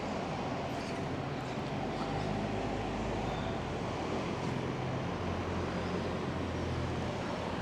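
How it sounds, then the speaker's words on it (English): A steady, broad rumbling roar of a Southwest train passing nearby, continuous and loud throughout with no pauses. "There's a Southwest train coming past."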